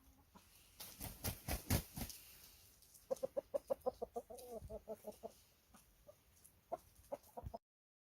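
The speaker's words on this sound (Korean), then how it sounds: "얘는 청계 장닭입니다." Chickens cluck in quick bursts, a Cheonggye rooster among them, with rapid rhythmic clucking in the middle and scattered calls after, fairly close and no talking.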